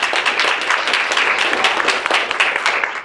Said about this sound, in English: please give a wonderful round of applause